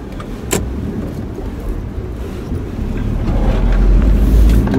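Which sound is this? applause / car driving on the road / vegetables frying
car driving on the road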